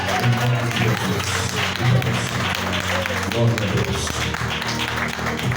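Congregation applause in a Pentecostal church, a steady wash of clapping running through the whole stretch with a voice speaking over it.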